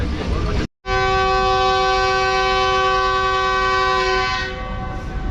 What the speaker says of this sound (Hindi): ट्रेन ने अपना फर्स्ट डिपार्टिंग विसल दे दिया है